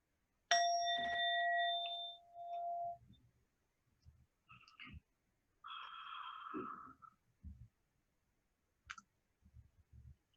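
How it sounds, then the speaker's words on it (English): A meditation bell is struck once to open an online group meditation session. It rings out in a clear, sustained tone that fades over a few seconds, followed by quiet, scattered soft sounds. "I will gong my bell here."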